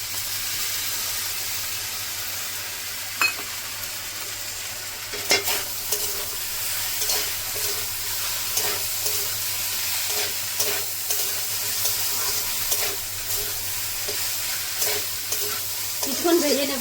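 Vegetable chowmein noodles are stir-fried with sauces in a hot pan: a loud, steady sizzle runs throughout, broken by repeated scraping and tossing strokes of a utensil, with no speech.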